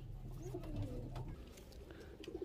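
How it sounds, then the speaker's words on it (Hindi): A pair of pigeons coo softly up close, low rolling throaty calls repeating through the short moment over faint background noise. "ये कबूतर का जोड़ा है"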